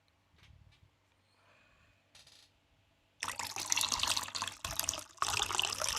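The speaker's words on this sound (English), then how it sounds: "The pouring sound?" Liquid pours with a bright, continuous splashing stream that starts suddenly after a few quiet seconds of faint sounds and runs loudly to the end.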